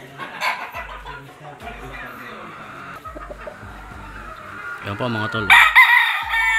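Straight comb lemon gamefowl rooster at a game farm, clucking in short bursts then letting out a loud crow near the end, close by, with someone talking in between.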